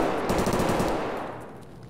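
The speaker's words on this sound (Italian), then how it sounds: "Sì, sento spari" Rapid automatic gunfire in the shooter game Escape From Tarkov, a dense burst of shots that rattles loudly for about a second and then fades into a decaying echo.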